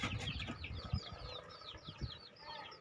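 Young crossbred chicks and chickens in a coop making repeated chirps and soft clucks, with occasional wing flaps and low thumps, close and steady throughout.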